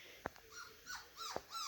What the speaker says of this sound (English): don't bark at them